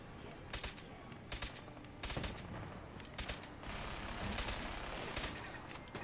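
Gunfire from gunners in the game Fallout 4, with repeated bursts of shots coming in clusters, fairly faint against a steady background, some volleys quick and rattling, others spaced apart.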